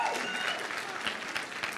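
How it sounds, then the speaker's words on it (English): Short burst of steady applause from an audience at a talk, dense clapping throughout with no voices standing out. "you guys should give yourself a round of applause"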